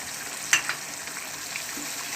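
Coriander powder, salt and spices being stirred in a pan for arvi gosht, giving a soft, steady frying sizzle with a couple of faint spoon scrapes early on and no talking.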